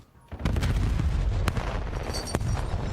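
Heavy, continuous gunfire and explosive blasts from a Call of Duty match during a bomb-site fight, with dense thuds and sharp cracks layered at a steady loud level, thrown lethals such as grenades bursting amid the shooting.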